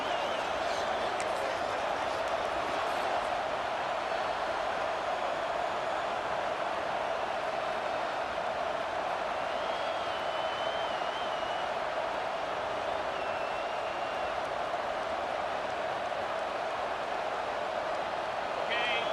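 Stadium crowd in the College Football 26 video game, a steady loud roar of cheering fans sustained throughout after an early interception, with no distinct breaks.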